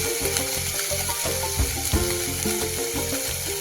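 Green peas being sautéed with fried onion for a Maharashtrian usal, giving a steady close sizzle with soft stirring scrapes throughout, loud and continuous with no talking.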